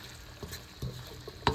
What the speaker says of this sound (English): Get all of our aromatics in here. Get them cooking. Stir it up really good.